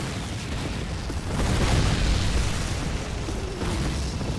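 A grenade blast in the World War II shooter Call of Duty 2 during the El Alamein desert battle: a dense, roaring explosion swells and rumbles for a couple of seconds amid continuous broad battlefield noise.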